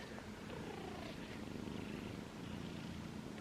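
Soft, steady purring of a newly adopted house cat, close and continuous with a low rumbling texture and no talk over it.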